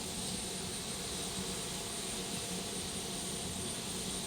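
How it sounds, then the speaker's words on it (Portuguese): Brazilian Air Force (FAB) plane landing at Chapecó, a steady broadband engine roar that holds evenly throughout, fairly distant, with no voices. "o segundo avião também já estará aterrissando em Chapecó"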